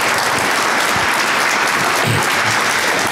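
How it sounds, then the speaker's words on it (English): Audience applause for a judge panel at an evening entrepreneurial incubator event, a steady dense wash of many hands clapping throughout, loud and continuous with no gaps. "Please, one more round of applause for all their time and effort."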